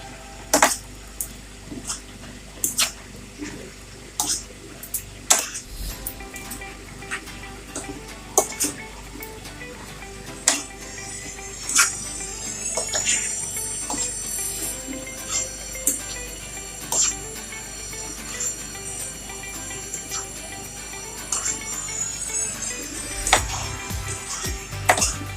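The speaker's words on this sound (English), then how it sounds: "So while I'm stirring it now" Chinese stir-fry vegetables stirred in a pan with a utensil, giving irregular sharp clinks and taps against the metal over a quiet background hiss, with a faint whistling tone in the middle.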